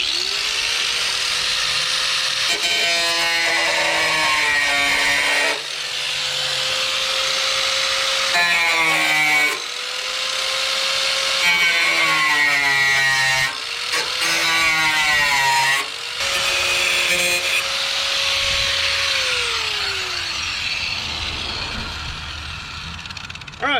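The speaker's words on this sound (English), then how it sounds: "We're going to take a cutting wheel and cut just a little bit of this metal off" A cutting wheel grinds through rusty sheet metal on the body of a 1968 Ford F100 pickup, a loud continuous whine that rises and falls in pitch as it bites, with brief pauses between passes.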